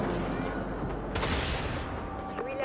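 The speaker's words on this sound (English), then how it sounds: "Artillery." Artillery guns firing from a cruiser in the naval warfare game Dreadnought, a dense rumbling barrage of booms with a sharp burst in the middle and whistling tones at the end.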